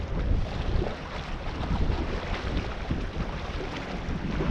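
Steady, blustery wind buffets the microphone beside a sea loch on the Isle of Mull, with a constant low rumble and gusty roar throughout and a faint sense of water and waves beneath, with no voices.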